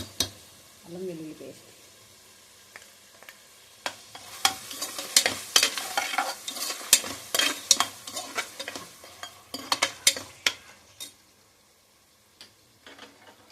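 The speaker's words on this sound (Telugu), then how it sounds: "ఇప్పుడు ఇందులోకి అల్లం వెల్లుల్లి పేస్ట్ వేస్తున్నానండి." Ginger garlic paste sizzles in a hot pan as it is stirred for a mutton curry. A steady frying hiss runs under repeated scraping and clinking of a spoon against the pan, with a brief voice near the start.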